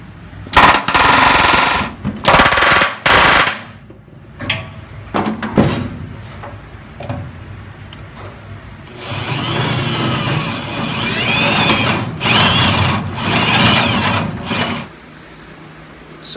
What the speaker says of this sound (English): So obviously the air chisel center punch deal doesn't like those thicker multiple layer spot welds, but whenever it's just two panels together, it just pushes right through them.